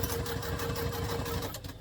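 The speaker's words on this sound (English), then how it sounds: "now we're going to take that to the machine and sew it with the seam allowance" A sewing machine stitches a seam on a contemporary hobo bag, running as a steady, fast mechanical whirr with a rhythmic needle chatter that eases off just before the end.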